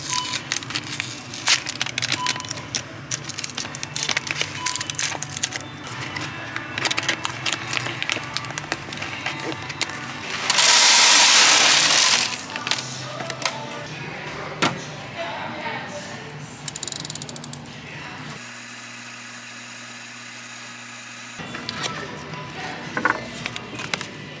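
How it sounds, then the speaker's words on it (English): A coffee grinder crushes whole coffee beans with a loud, steady mechanical grinding and rattling that runs in stretches and changes pitch partway through, close to the listener, broken by short pauses and shifts in the motor's whir. "that was fun grinding the beans"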